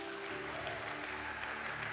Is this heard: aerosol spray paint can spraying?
no